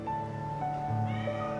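Several rescued cats and kittens meowing, overlapping high-pitched calls sustained continuously at close range, with no talk.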